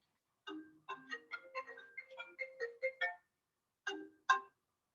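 A mobile phone ringtone goes off in a quiet lecture setting, a quick run of bright electronic chime notes in a rhythmic pattern, a short pause, then two more tones.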